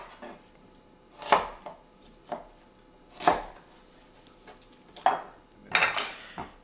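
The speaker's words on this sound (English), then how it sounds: "We're going to start by cutting the shallot lengthwise into 4 quarters" A knife chopping a shallot lengthwise into quarters, four separate cuts spaced a second or two apart, each a crisp close thud of the blade hitting the cutting board, with a quiet pause between them.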